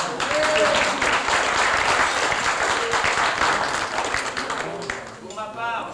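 Audience applause at a gathering of the Montgolfières d'Annonay hot-air balloon association, loud sustained clapping from a crowd that tapers off, with a voice speaking briefly near the end.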